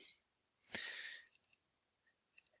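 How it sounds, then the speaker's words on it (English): Computer mouse clicks during drawing software work: one louder, longer click burst, then a quick run of small sharp clicks and another pair near the end, close and isolated. "I right click on it"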